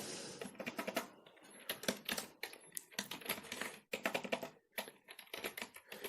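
Rapid, continuous keystrokes on a computer keyboard while C code is entered, close and clear, with irregular bursts and brief pauses and no talking.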